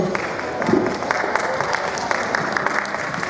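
Audience clapping at a Jerusalem mothers' group conference, a steady spread of many hands clapping with voices murmuring underneath.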